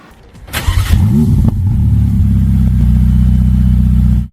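A Ferrari 812, an 800-horsepower car, roars loudly as it pulls away, the exhaust rising in a rapid rev before settling into a deep, sustained drone that cuts off abruptly, heard close and without talk.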